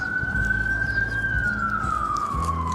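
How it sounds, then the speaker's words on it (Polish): An ambulance siren passes along a south Manhattan street, a steady wailing tone that holds loud and close, then slowly slides lower as the vehicle moves by over the low rumble of city traffic. "Czekajcie, jakaś karetka jedzie"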